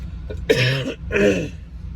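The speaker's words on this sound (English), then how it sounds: "Had a little bit of mucus, been coughing up" Two harsh, close coughs with mucus in quick succession, with a throaty clearing quality and quiet pauses around them.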